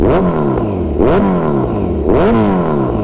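A motorcycle engine revved lightly three times, each blip rising and falling in pitch at roughly one-second intervals, loud and close with a steady idle rumble between.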